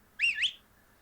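A video game character from Tales of Rebirth gives one short, bright whistle that rises and wavers over about half a second, close and clear, with no talk around it.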